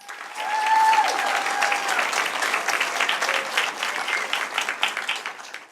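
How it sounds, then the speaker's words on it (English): Warm applause for veterans at an annual Stand Down community event, a crowd clapping steadily for several seconds, swelling early then holding, with a few faint whistles or cheers mixed in. "Round of applause for all our veterans."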